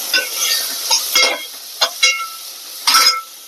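Chopped medium tomatoes going into a hot pan for sambar, brief bursts of sizzling and spatula stirring coming in short separated spurts over a quiet background.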